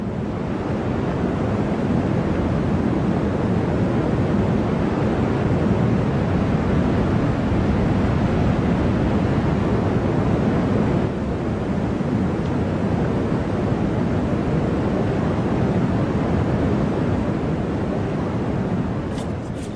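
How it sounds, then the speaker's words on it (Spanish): Turbulent Santa River water rushing through Cañón del Pato in Peru, a constant broad roar of churning water with windy rumble, loud and unbroken throughout. "Sus turbulentas aguas han cincelado con el paso del tiempo el Gran Cañón del Pato."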